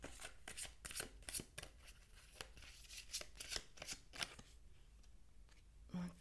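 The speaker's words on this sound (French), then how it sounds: "Je vais prendre une carte au hasard." Oracle cards being handled and shuffled close up, a run of quick crisp card flicks and slaps with one drawn at random, a few soft clicks near the end.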